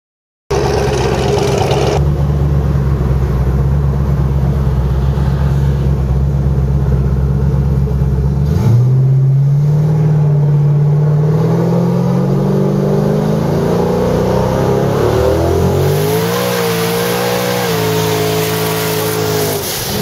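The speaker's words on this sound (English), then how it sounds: "Look at that fucking burnout, dude." A 1500 HP twin turbo LS Camaro doing a tire burnout: a loud, sustained engine roar that holds steady, then climbs in pitch as revs rise and dip, continuous for the whole stretch.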